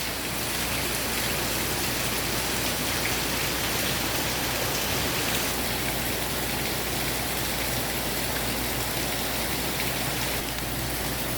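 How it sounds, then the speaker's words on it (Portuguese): Torrential morning rainstorm in Pernambuco, Brazil, flooding everything, a loud, unbroken roar of heavy rain and running water that holds steady throughout, with no voices. "Meu Deus do céu, é muita chuva."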